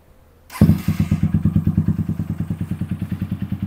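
A Honda GL150 cafe racer motorcycle engine fires up and settles into a loud, throaty idle with a rapid, pulsing thump from an open bullet exhaust pipe, close by.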